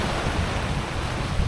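Steady wash of sea waves and gusting wind from a sailboat crossing the Strait of Messina at about eight knots on a beam reach, a loud continuous roar with no talking.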